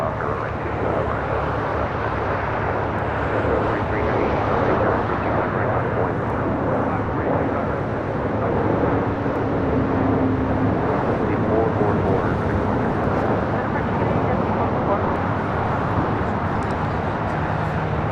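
A plane takes off from runway 25 right at LAX with a broad, continuous engine roar heard from a distance, while people talk over it the whole time.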